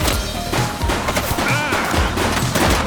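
Dense gunfire bursts from The Precinct police action game, rapid overlapping shots and thuds running continuously and loud throughout, with a faint voice briefly under the volley.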